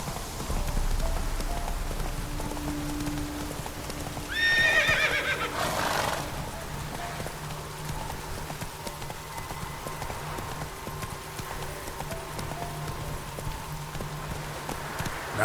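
Roach, a horse in The Witcher 3, snorts and whinnies once in a short burst amid steady hoof clip-clop and light rain, with the ambient outdoor bed continuing alone afterward.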